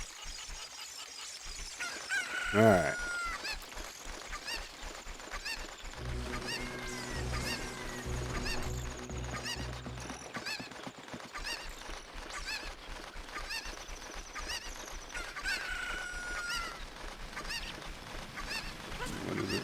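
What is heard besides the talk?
chickens clucking in Ocarina of Time 3D video game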